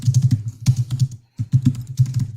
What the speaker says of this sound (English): hammer on your keyboard